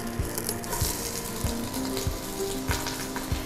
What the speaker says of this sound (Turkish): yani mühürleyeceğim. Sizin etrafı birazcık kızarsın istiyorum.